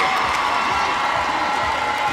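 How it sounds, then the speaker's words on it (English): A roller derby crowd at a WFTDA 2015 final match roars after a scoring jam, a sustained, dense wash of cheering and shouting from a large arena audience, steady and loud throughout. "And the crowd is going crazy."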